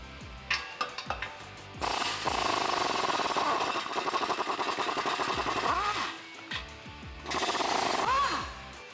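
Bursts of a pneumatic impact wrench loosening exhaust bolts under a Ford F150 rattle loudly, several short pulses then longer sustained runs, with pauses between.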